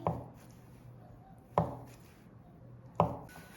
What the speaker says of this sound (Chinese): 然后我们将这样给它切成丁。